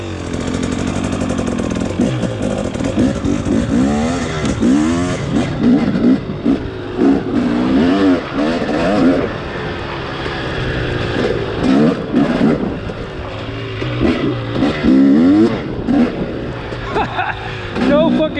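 An engine is revved hard with the throttle, its pitch rising and falling in repeated loud sweeps, close by, over a rough idling rumble.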